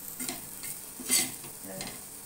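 Elephant foot yam (suran) slices shallow-fry in a pan while each piece is flipped in turn, giving a soft sizzle broken by light scraping and tapping of a spatula, with a brief louder sizzle in the middle.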